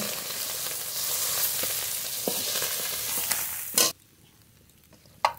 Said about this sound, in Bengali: একইভাবে এই মাছগুলো ভেজে নেব।